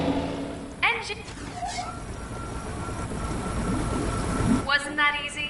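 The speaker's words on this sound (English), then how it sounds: "The engine is engaged and hull secure." A Zoraxis escape pod's engine engages in the I Expect You To Die game: a steady, broad, low rumbling roar that holds for several seconds, with a brief synthetic voice-like tone near the start and again at the end.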